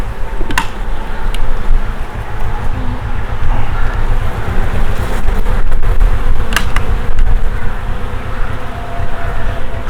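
Dense, steady buzzing from many honeybees at a hive fills the whole clip, a close continuous drone with a few brief sharper clicks.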